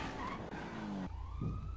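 Police car siren in the FiveM multiplayer game, a steady wailing tone that sweeps and shifts pitch, loud and close, with game engine noise underneath throughout the short burst.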